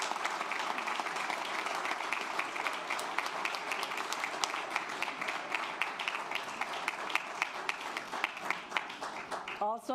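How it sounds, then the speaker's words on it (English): Clapping from the audience at a school board meeting fills ten seconds as a student award winner is honored. The applause is sustained and crisp, with occasional louder individual claps and some murmuring voices. "Let's give him a big round of applause."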